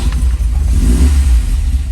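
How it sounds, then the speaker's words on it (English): Engine of a Volvo 1800ES running with a deep, steady low rumble and mild revving surges, close and loud throughout. "All right, so I'm gonna start the engine."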